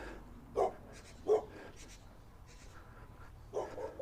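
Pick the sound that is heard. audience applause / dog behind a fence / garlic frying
dog behind a fence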